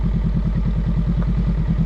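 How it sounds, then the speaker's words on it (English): A motorcycle engine putters in a steady, rapid low thumping rhythm as it engine-brakes with the clutch in while downshifting into first gear, close and loud throughout. "Okay, now it's some engine braking. Apply some brakes, clutch all the way in, and downshift into the first gear"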